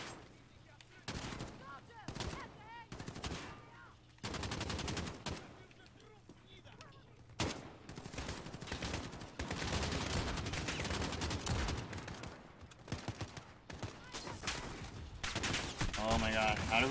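Rapid bursts of sniper rifle fire from the video game Modern Warfare, with loud sharp shots repeating across the stretch under a dense, busy game soundscape and a voice talking.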